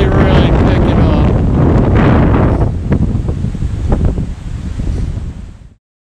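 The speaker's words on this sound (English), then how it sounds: "As you can see, the wind is really picking up." Strong wind gusts buffet the microphone outdoors during a winter fishing trip in New Hampshire, a loud roaring rush that eases slightly midway before cutting off abruptly near the end.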